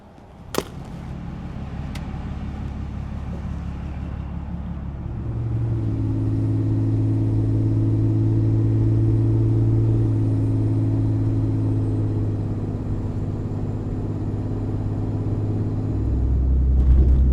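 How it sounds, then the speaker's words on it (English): Steady low engine drone and road rumble from a pickup truck cruising at a constant 40 mph, loud and continuous throughout. "we're driving the truck now, holding it at about 40 miles an hour"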